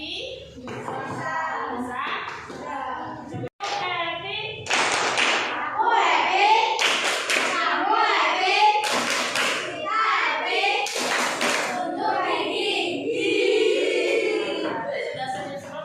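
A classroom of children performs a rhythmic group clap routine, repeated bursts of clapping under lively chanted and spoken voices, near and fairly loud throughout.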